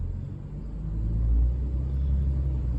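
A car engine drones low and heavy while a learner driver in a manual-transmission car gives it too much gas, the rumble swelling slightly midway and holding steady, close up, with no talk.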